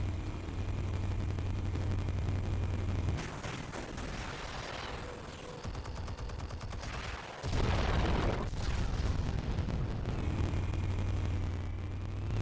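Explosives detonating in Batman: The Telltale Series, heavy booming blasts with crackling debris arriving in separate loud bursts over a rumbling low bed, with quieter stretches between them.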